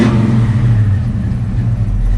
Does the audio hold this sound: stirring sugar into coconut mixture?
no